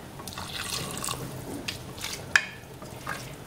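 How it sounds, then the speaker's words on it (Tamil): A little water poured into mutton keema curry in a pan, a soft trickle and a few drips close by with one sharp splash, quiet and without speech. "கொஞ்சமாக தண்ணி ஊற்றிக்கலாம்."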